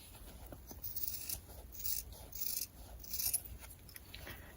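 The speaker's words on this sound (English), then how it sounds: "I'm going to just trim up the craziness of the fabric around here." Fabric being trimmed with scissors while sewing a tie-back surgical scrub cap, heard as a few faint, dry snipping and rustling bursts spread across a quiet background.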